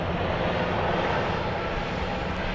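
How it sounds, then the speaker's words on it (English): A Boeing 737-800 airliner from Orlando arrives at Dallas Love Field at night, its engines a loud, broad, steady roar that fills the whole stretch with no talk over it. "Here comes flight 3557 from Orlando, Florida."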